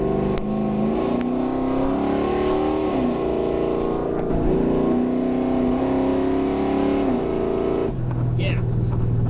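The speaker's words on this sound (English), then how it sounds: "I'm gonna drop it into first and floor it." Ford F250 pickup with a rebuilt carburetor and a boom tube accelerates hard in first gear, its loud engine note rising and climbing steadily under a close interior perspective before easing off near the end.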